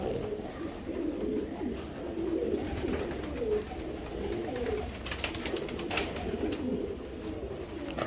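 Racing pigeons coo steadily in a loft, several low, throaty murmurs overlapping close by in a continuous soft burble with no voices.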